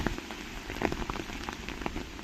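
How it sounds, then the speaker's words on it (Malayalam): Steady rain patters down on a hard surface, a dense hiss with scattered louder drops close by, continuing without pause and no voices. "കാറ്റും മഴയും ഒന്നാന്തി തന്നെ"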